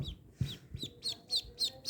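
Newly hatched ducklings peep in a quick series of high, descending chirps, close and fairly clear, with soft low thumps and handling noise underneath.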